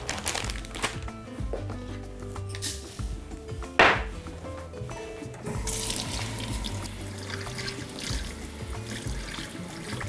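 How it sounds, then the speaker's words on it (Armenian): Round rice washed under a running kitchen tap, a continuous splashing flow of water with one louder splash partway through, close and alone. "Մեկ բաժակ մառանիկ ընկերության կլոր բրինձը լավ լվանում ենք"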